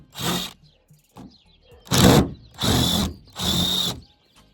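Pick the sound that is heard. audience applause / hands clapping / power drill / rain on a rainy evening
power drill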